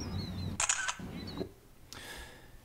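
A camera snapshot sound effect added to a flash effect in a Premiere Elements video edit gives a sharp shutter click and a second quieter click a moment later, heard over low background noise.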